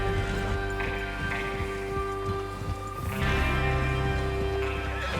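Horses in Red Dead Redemption 2 neigh loudly over the drumming of hooves at a gallop, a dense, continuous rush of movement with a steady tone humming underneath.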